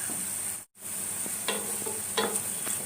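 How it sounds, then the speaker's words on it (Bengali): Grated ginger, onion and garlic fry in a pan for butter chicken, a constant sizzle with intermittent spatula scrapes after a brief dropout. "এই আদা পেঁয়াজ রসুন আমি একটু ভেজে নিচ্ছি"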